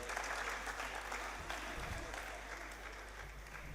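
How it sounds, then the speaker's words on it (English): A conference audience claps for a university vice chancellor, a full, continuous round of applause filling a large hall at a steady, moderate level. "Please, another round of applause for him."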